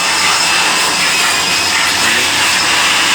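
An air blower dries a freshly washed motorcycle with a loud, constant, broadband rushing roar that holds steady without a break, close to the listener.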